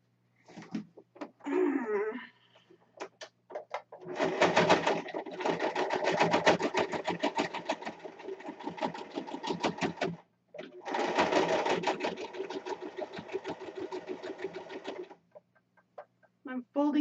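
Sewing machine stitching a Renaissance corset, running in two long steady bursts of rapid mechanical stitching with a short pause between, close and loud, with brief talk before and after.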